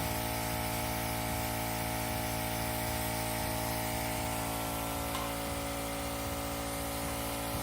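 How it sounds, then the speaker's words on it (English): Very light spraying of a fine coat onto a Sorting Hat cake, a faint, steady hiss that runs continuously over a low background hum, with no talking. "So I'm very, very lightly just spraying."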